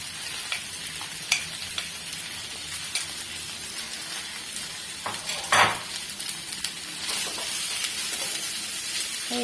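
Rice and beef fried rice being stirred in a hot pan, a steady sizzle with scraping and clinking of a utensil against metal, close and continuous with no talking.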